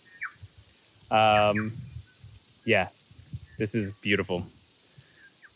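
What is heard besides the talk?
cicadas chirping in New Zealand countryside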